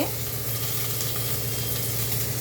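Finely chopped onion frying in oil with mustard seeds and cumin, giving a steady, loud close sizzle with faint stirring, no voices.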